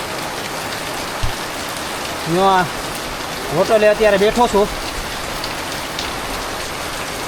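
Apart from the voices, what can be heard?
heavy rain falling at Pavagadh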